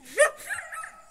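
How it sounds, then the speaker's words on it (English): Dogs near a rural house give a sharp bark followed by softer yips and whimpers, close by and brief, with no talk. "You're all barking at us, huh?"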